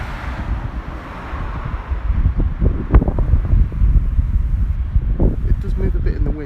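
Gusty wind buffets an outdoor microphone as a handheld Zhiyun Smooth-Q three-axis gimbal is tested, a steady low rumble with stronger thumps midway, continuing throughout.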